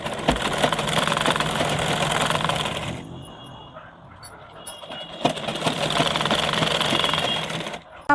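An electric sewing machine runs in two long, fast stitching bursts on a blouse collar along its lining, loud and close, with a brief pause of quieter handling between them.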